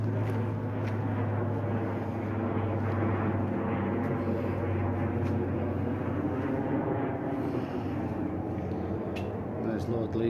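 An airplane out of Liverpool Airport passes overhead at night, a steady low distant drone running continuously beneath an outdoor scene with faint ticks.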